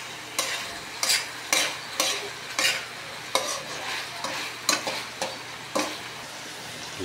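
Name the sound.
sautéing pork for dinuguan in a pan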